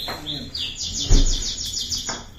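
Several bright, rapid bird chirps repeat in a quick run, fairly close and clear, heard indoors in a hotel in Al Khobar, with a low thump and faint background noise.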